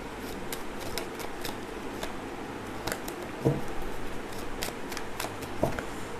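Tarot cards are drawn and shuffled from a deck at close range, with soft, quiet papery riffles and slides broken by a few sharper taps and flicks.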